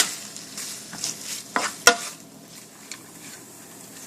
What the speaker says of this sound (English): we're going to brown the sausage in a frying pan over medium-high heat